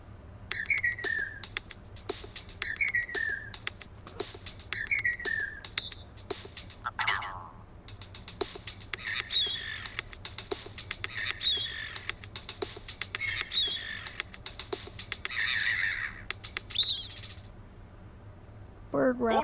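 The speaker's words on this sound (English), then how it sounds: "We recorded the call of some birds and made this." Recorded bird calls edited into a short comic song, with repeated chirping whistles and squawks looped in a rhythmic pattern, fairly close and prominent, with a stretch of denser overlapping calls midway.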